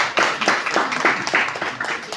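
Brief round of applause in a political assembly, a quick flurry of many hands clapping in an uneven, rapid rhythm, moderately close and without talk over it.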